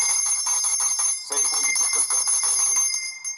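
A bright metal bell rings repeatedly at a steady quick rhythm. It is loud and close, and it carries on for a few seconds with a clear ringing tone and no talk.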